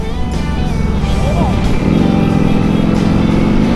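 A superbike's engine drones loud and steady nearby, with pitch rising as it revs, and people talking over the engine noise.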